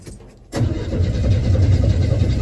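A 1981 Chevy C10 square-body pickup engine catches abruptly after a brief quiet moment, then settles into a loud, steady, rumbling idle that continues without voices.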